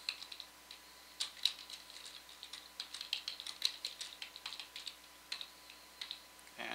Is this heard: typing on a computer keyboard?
yes